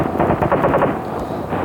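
Rapid bursts of TMP submachine gun fire in Resident Evil 4 crackle in quick succession, sharp and loud, with a brief pause before a final shot.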